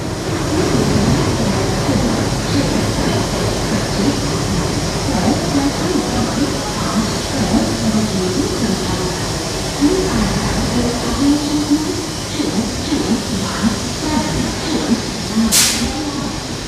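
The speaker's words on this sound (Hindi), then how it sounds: "फाइनली अपनी Deccan queen superfast express Pune junction के प्लेटफॉर्म नंबर 4 पर लगा दी गई है।" The Deccan Queen Superfast Express pulling in at platform 4 of Pune Junction: a loud, steady rolling rumble with hiss fills the platform throughout, with a sharp brief burst of noise near the end.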